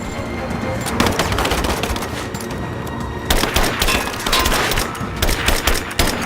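Rapid bursts of automatic gunfire with scattered single shots echo through a firefight in Rise of the Tomb Raider, loud and continuous across the whole stretch, with shouted voices mixed into the din.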